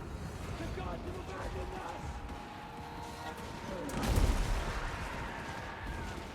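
Massed hand gunners fire a salvo in a Total War: Warhammer 2 battle against a giant, a dense crackle of gunfire and battle noise peaking in a heavy boom partway through, with voices over the din.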